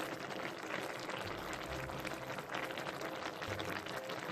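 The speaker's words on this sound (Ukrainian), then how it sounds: "тепер вливаємо сюди 2 столові ложки оцту" Vinegar pours into a bubbling pot of lecho, a steady wash of boiling and splashing noise that stays fairly even and soft throughout.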